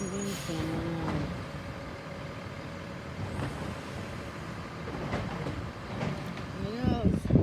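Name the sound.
garbage truck arriving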